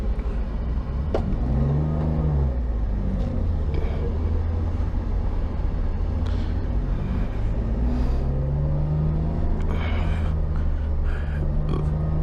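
A Roadsports race car heads out onto the circuit at Silverstone International during a 750 Motor Club race. Its engine drones loud and steady from close by, with the revs swelling and climbing twice.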